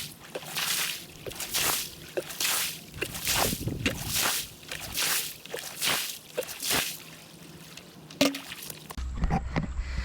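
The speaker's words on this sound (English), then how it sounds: "Let me get my bucket. Let's get to rinsing." River finds are rinsed in a bucket of water by hand, with rhythmic sloshing and swishing splashes repeating up close. A few light clinks come near the end.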